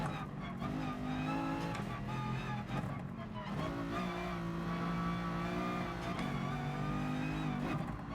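A Lamborghini GT3 race car engine screams in GT Sport, revving high and loud through repeated gear shifts, with the pitch rising and dropping steadily, while a commentator talks faintly over it.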